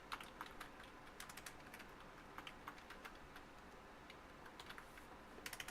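Quick, light clicks of typing on a computer keyboard come in scattered bursts and short runs, quiet and close, with no talking.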